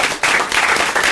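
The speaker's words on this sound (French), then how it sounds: "On vous applaudit, bravo encore," A radio show's studio audience breaks into loud applause after a brief lull, a sudden burst of many hands clapping close to the microphone and carrying on to the end.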